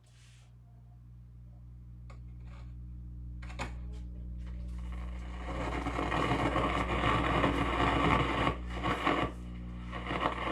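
An old vacuum tube radio set warming up: a steady low hum with tonal bands grows gradually louder, then broadband static and crackle swell in over the latter half, with a few sharp clicks.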